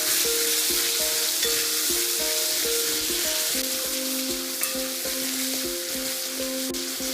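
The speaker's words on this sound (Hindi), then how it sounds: "चलिए चेक कर लेते हैं टमाटर को। मिक्स कर लेंगे हम इसे एक बार।" Tomatoes cook in a pan for a stuffed potato curry, a steady loud sizzle and frying hiss with repeated scraping and stirring strokes of a spoon throughout, close and continuous, with no voice.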